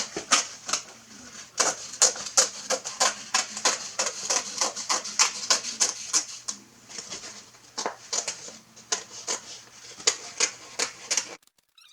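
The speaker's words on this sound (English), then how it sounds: "So we're going to trim this edge about a 1/2 inch, all right?" Canvas photo print edge being trimmed, a rapid series of sharp snipping or cutting clicks in an irregular rhythm, close and fairly crisp, ending in a short pause, no talking.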